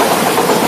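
British Rail Class 172 diesel multiple unit 172342 rolling through the Cradley Heath station level crossing in the West Midlands, a loud, close, steady mechanical rumble with a brief burst of running noise and no talk.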